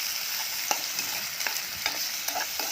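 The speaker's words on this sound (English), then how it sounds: "So saute the shrimp a little bit here, not too much" Shrimp sautéing in a pan for pad thai, a steady bright sizzle with scattered clicks and scrapes of stirring, close and continuous with no talking.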